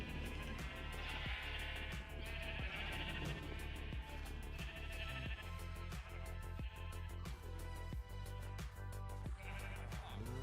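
Sheep bleat repeatedly in a farming video game, the calls rising over a dense bed of background game music and sound effects, loud and continuous throughout.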